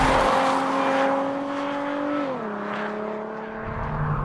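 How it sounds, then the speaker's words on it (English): A Hyundai Genesis Coupe V6 engine drones loudly with a steady tonal pitch, easing down as the gear changes, then building again, heard from inside the car. "Here's a Hyundai sports car with a better sounding V6 than the Nissan 370."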